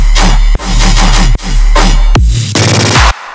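Dubstep bass-music drop with the kick and snare removed and the sidechain left in, a loud, distorted wall of heavy bass and synth that ducks and swells in a steady pumping rhythm, with sharp cutouts between phrases.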